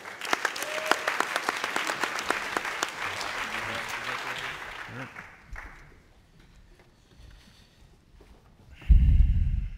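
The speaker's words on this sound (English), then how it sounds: "So give a big round of applause for Empower." Audience applause at a social good summit startup showcase, a broad wash of clapping filling the first five seconds before fading into quiet room tone, with a brief loud thump near the end.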